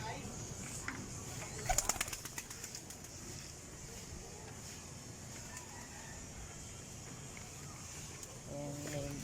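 A pigeon is released from a wooden cage, with a brief burst of wing flapping near the start, then quiet background with faint bird sounds and distant noise.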